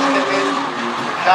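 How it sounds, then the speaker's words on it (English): A Nissan R32 drift car with an RB25 engine clutch-kicks into the first corner at a drifting event, its loud engine note surging and then climbing sharply at the end, partly under a commentator's voice. "You can hear a clutch kick."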